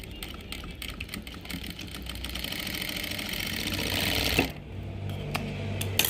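Sewing machine stitching the slit of cigarette pants, a steady fast mechanical whir running continuously with a brief pause and restart near the end, close and alone with no talk.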